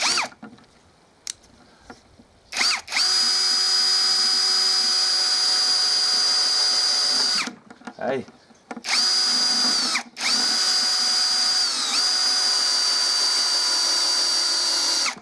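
PROCRAFT PA 21 Li cordless screwdriver driving a screw, a loud steady motor whine running in long bursts with short pauses and restarts, close up, with no talk.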